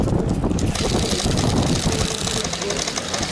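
Strong wind buffeting the microphone outdoors at an airsoft game, a loud, steady rumbling roar that fills the whole stretch with no talking.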